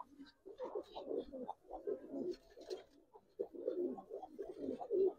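Giribaz and colouring pigeons coo softly in repeated low, throaty bursts at a pigeon market, with faint ambient noise between the calls.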